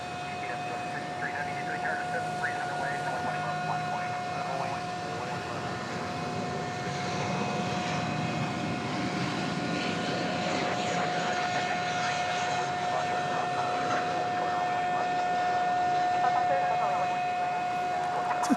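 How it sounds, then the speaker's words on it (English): Boeing 767 jet engine at DFW Airport at night, giving off a steady, high, tonal whine over a broad distant roar that holds throughout, with faint background noise. "It's that 767 making that awful whine"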